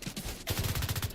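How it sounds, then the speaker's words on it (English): Video game gunfire from The Division 2 crackles in a short automatic burst: a couple of scattered shots, then a rapid, evenly spaced string of loud reports close by. "Who's shooting me?"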